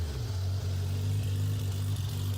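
A car's engine runs steadily with a strong, deep low-end rumble that holds throughout, loud and close with no clear rise in revs.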